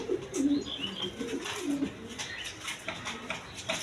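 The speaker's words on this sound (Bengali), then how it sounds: "এইখানে এক পেয়ার কবুতর আছে হাই ফিলাইং গিরিবাস কবুতর" A pair of high-flying Giribaz pigeons, a male and a female, coo close by in soft repeated low bursts over a quiet background.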